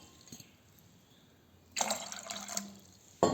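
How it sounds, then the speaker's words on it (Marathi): Half a glass of water poured into a cooking pot while soaking poha, a short splashing burst after quiet, then a brief louder splash at the end, close by with no talk. "त्या पातेल्यामध्ये मी अर्धा ग्लास पाणी ओतते"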